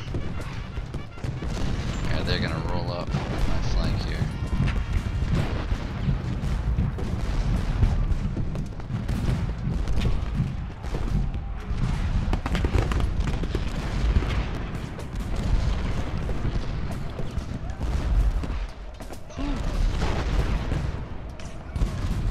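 Cannon artillery fire booms in a Civil War strategy video game, a dense, continuous barrage of overlapping blasts and crackling volleys, with someone talking briefly over the din.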